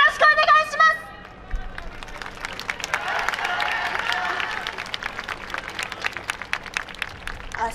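An outdoor festival audience at a YOSAKOI dance stage claps along in rapid, dense, scattered hand claps that swell and continue steadily after a brief voice at the start.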